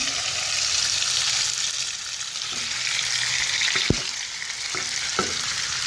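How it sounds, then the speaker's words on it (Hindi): Chicken pieces fry in a pan for Afghani chicken gravy, giving a loud, continuous sizzle close by, with a few spoon scrapes and knocks against the pan toward the end. "चिकन हमारा ये भी अच्छे से फ्राई हो गया"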